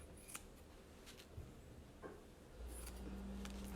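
Scissors snip a paper rectangle for a gnome ornament, a few short quiet crisp cuts spaced out, followed by a low steady hum, with no voices.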